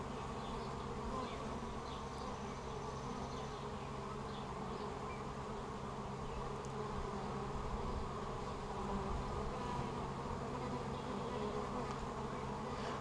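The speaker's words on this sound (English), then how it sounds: "I got a bee that was on me." Honeybees buzz around a beehive in a dense, continuous drone that holds steady at moderate loudness for the whole span, with no voices.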